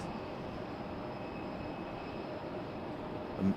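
A Republic Airways airliner arrives at Raleigh-Durham International Airport, inbound from Washington DCA. Its broad, steady jet roar holds at an even level throughout, with a brief louder thump right at the end.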